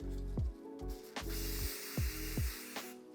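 Short hissing bursts of cooking oil spray, for milk bread dough, repeat several times at close range, each a quick pump followed by a fizzing hiss over a low hum.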